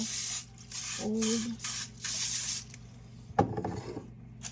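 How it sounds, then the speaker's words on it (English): Cooking spray hisses onto a loaf pan in several short, sharp bursts, followed by a brief clatter of the pan being handled, close up and without talk. "And I'm going to spray my loaf pan."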